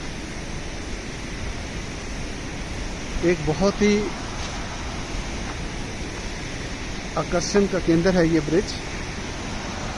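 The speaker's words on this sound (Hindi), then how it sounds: "आप आवाज़ सुन सकते होंगे नाले की" A mountain stream flows through a rocky gorge beneath an old British bridge, a steady, even rush of water that runs throughout under someone talking in Hindi.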